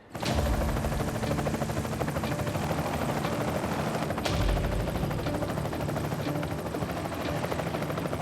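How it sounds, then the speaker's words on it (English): A helicopter carrying a load at the limit of its lifting capacity to a building site in New Zealand, its rotor chopping in a fast steady rhythm with a loud engine whine, sustained and close throughout. "we're at the limit of what the helicopter can carry"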